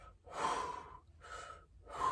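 Slow, deep breaths taken to stay calm while trapped in a freezer at work, three close, airy inhale-exhale cycles with brief pauses between, quiet and with no talk.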